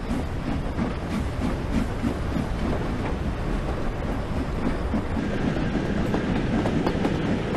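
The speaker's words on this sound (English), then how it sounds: "Chuffing away, already up to 10 miles an hour." A steam locomotive in the Train Sim World game chuffs steadily as it pulls away, with a rhythmic exhaust beat over continuous rumbling rail noise, loud and close.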